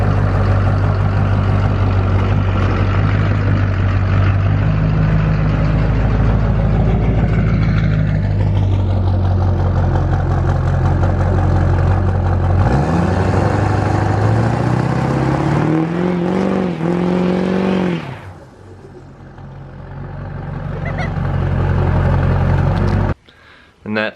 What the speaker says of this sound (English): Go ahead and throw in the Duramax last burnout from when it was a Silverado right here.